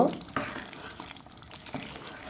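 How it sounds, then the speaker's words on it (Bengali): Chicken liver bhuna stirred and frying in a pan, a steady close sizzle with scraping stir strokes and small clatters throughout. "খুব ভালোভাবে নেড়ে চেড়ে দেবো আর আরও দু মিনিট আমি এটা রান্না করে নেব"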